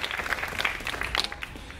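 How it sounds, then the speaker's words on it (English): A brief burst of audience applause at the launch of a countdown clock for the 2015 Western Canada Summer Games: dense, steady clapping from a crowd, moderately loud, with no voices over it. "So give them a round of applause as well."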